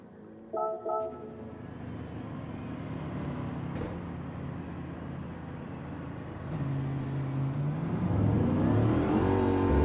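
A Mercedes race car in Gran Turismo 7 revs its engine, rising from a low idle hum into climbing, increasingly loud acceleration tones with a few brief clunks early on.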